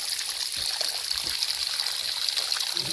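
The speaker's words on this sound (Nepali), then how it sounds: "एक्कासी पानी यसरी आइरहेको छ" Pure Himalayan spring water from Himchuli gushes out of a mountainside, a steady close rushing trickle and gurgle without break.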